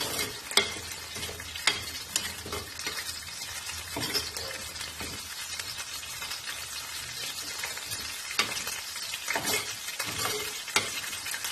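Chillies roasting in coconut oil in a pan make a steady, close sizzle, broken by irregular scraping and clattering strokes of a spoon stirring them, without any voices.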